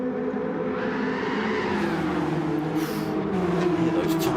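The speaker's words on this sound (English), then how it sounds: "Hear those tyres squealing" Racing cars roar steadily in a video game race at Kyoto Driving Park, engines whining and tyres squealing through corners, with a sustained loud drone throughout.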